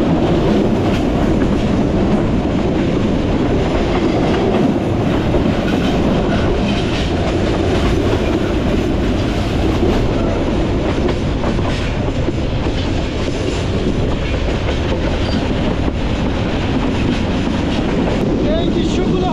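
A Chittagong-to-Sylhet passenger train runs through hilly country near Srimangal, a loud, unbroken rumble of rolling wheels and rattling carriages with rhythmic clickety-clack and wind buffeting the microphone.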